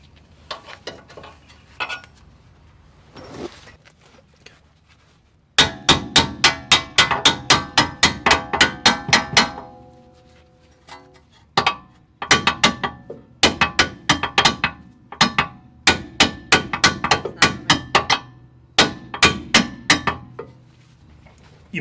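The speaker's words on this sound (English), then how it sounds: "you'll probably want to grab a pin punch and a hammer and punch the bolt out for the other side" A hammer striking a pin punch to drive a bolt out of a car's rear suspension on an MKV Jetta, rendered as bursts of sharp, ringing metallic blows in quick rhythmic runs separated by pauses.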